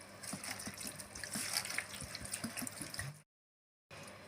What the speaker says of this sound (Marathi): पोहे धुताना चोळून धुवून घ्या.